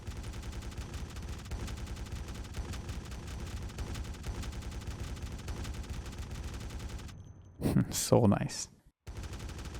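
Sustained rapid gunfire in Project Zomboid, fired into a group of zombies, runs as a steady rattle of shots for several seconds, then stops and a voice speaks briefly.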